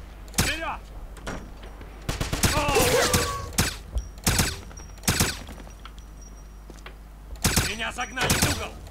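Gunfire in the shooter game Wolfenstein: repeated loud, sharp shots in bursts and single cracks scattered across the span, some rapid clusters, with a faint steady hum underneath.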